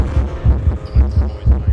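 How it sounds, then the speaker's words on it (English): Heartbeat sound effect in a radio ad, a loud, fast, pounding low thump pattern repeating in quick double beats, alone without talk. "This is what most people's heart rate sounds like when they're getting their taxes done."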